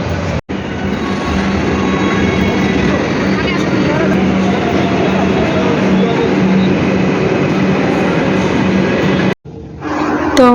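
A Kolkata metro train heading toward Dakshineswar, heard from inside a carriage: a loud, continuous rumble of wheels and motors with faint squeals, briefly cut twice.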